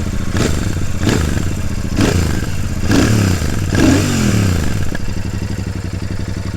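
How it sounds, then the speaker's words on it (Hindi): A Royal Enfield Super Meteor 650 parallel-twin runs close up with a loud, throbbing exhaust note. It is blipped in several rhythmic revs, each rising and falling, before settling back toward idle. "इसका जो एग्जॉस्ट नोट है ना वो काफ़ी प्यारा है"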